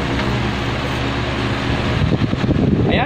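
An electric fan, just repaired with a replacement capacitor to fix slow spinning, runs up to speed with a steady close whooshing hum and airflow noise, filling the whole clip with no talking.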